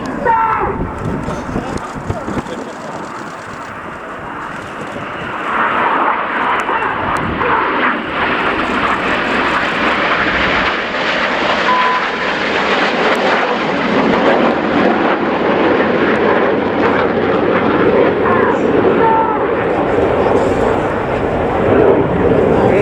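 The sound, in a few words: Red Arrows jets flying rollback manoeuvre at air show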